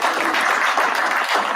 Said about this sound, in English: Let's give ourselves a round of applause for all showing up